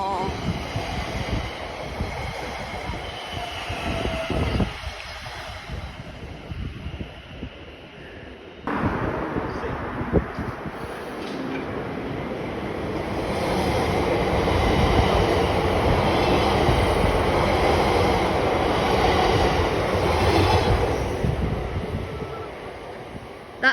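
A train passes through Harrow and Wealdstone station with a loud, sustained rumble and roar that swells midway, then slowly fades, with wind buffeting and no talk.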